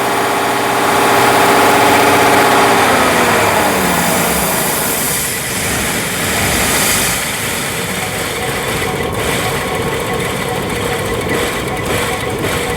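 A 2014 GM truck with the 5.3 engine idling rough, a loud close mechanical drone that holds steady throughout, with some shifting tone early on.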